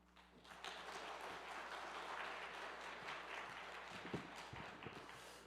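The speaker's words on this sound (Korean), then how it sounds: "나오실 때 우리 크게 박수로 우리 환영하겠습니다" A church congregation claps to welcome a missionary preacher to the front, a faint, distant wash of steady applause filling the room without voices.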